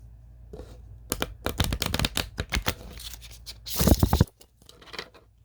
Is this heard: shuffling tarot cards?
yes